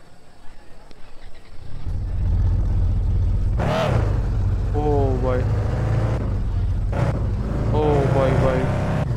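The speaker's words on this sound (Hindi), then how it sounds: "तो चलिए हमारी विंटेज कार को स्टार्ट करते हैं।" After a brief quiet, a vintage car engine in a video game cranks and catches, settling into a low steady idle with a couple of sharp revs on top.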